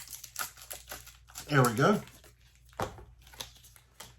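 Tightly packed plastic packaging is cut open with scissors, giving sharp crinkling and rustling bursts with snips and handling noises, heard up close while someone speaks briefly.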